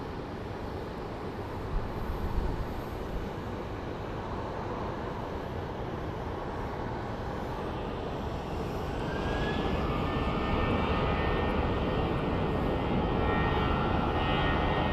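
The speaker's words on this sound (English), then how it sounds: "looks like we have an American Airlines A319 headed to Madison" An American Airlines Airbus A319 jet departs Phoenix Sky Harbor International Airport, a steady broadband engine roar throughout that swells louder in the second half as a rising whine emerges.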